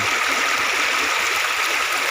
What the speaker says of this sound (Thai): เบิ่งเห็นน้ำเบิ่งตรงพันเกดน้ำไหลๆเลย